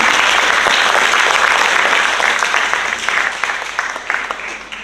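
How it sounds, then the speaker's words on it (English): A round of applause from the audience at a primary school graduation ceremony at St. Andrew's Anglican Primary School, full and steady at first, then thinning and fading over a few seconds. "Let's give Ms. Hilaire another round of applause."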